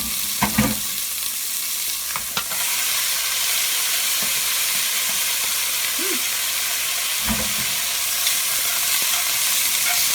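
Onions sizzle and fry in a pot for a soup base, a constant bright hiss broken by a few clanks and scrapes of stirring near the start and later, with no voices.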